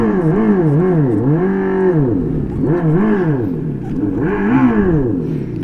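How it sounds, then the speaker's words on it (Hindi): A Revolt RV400 electric motorcycle plays a simulated sports bike engine note that rises and falls in pitch in repeated swells as it is throttled, smooth and synthetic, close and steady without pauses. "तो ऐसी कुछ आवाज़ आती है स्पोर्ट्स बाइक"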